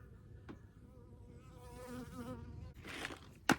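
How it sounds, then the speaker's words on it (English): A bee buzzes close around a phone during work installing plastic rear fender cladding on a 2003 Honda Element, a wavering insect drone rising and falling over a few seconds, ending with a sharp loud knock. "There's a bee buzzing around my phone."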